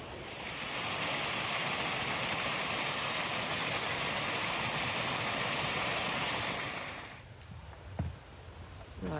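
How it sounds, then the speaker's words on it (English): A waterfall rushes near Roche Abbey, a loud, steady roar that fills the first seven seconds before dropping away abruptly, leaving a quieter background with a faint knock. "we're near the waterfall."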